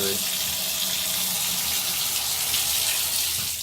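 Steady rush of water pouring from a hotel bathroom faucet, continuous and fairly loud, with a faint voice underneath.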